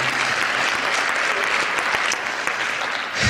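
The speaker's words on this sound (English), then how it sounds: "A round of applause for them" A hall audience applauds the Logan Center crew with loud, dense, continuous clapping from many hands, steady throughout the short stretch.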